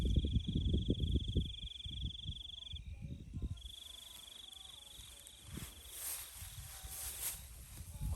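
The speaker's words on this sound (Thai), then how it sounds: "จิ้งหรีดร้อง" Crickets chirp in a steady high trill in a rice field beside a haystack, with rustling and soft thumps nearby early on, then a calmer stretch of continuous chirping.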